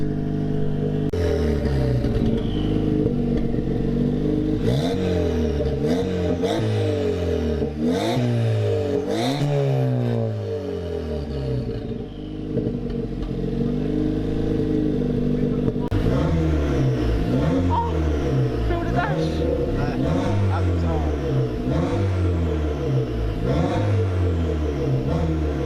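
An AET Motorsport race car engine revs hard again and again, loud and close, with rising and falling pitch sweeps and no speech over it.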